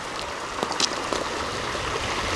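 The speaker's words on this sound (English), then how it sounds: "Nice stream leading down to the koi pond." Water trickles and splashes down a backyard stream feeding a koi pond, a steady babbling wash with a few brighter splashes, close and alone.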